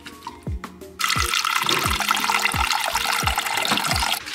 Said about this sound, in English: you add just enough water to cover the gizzards, bring it to a boil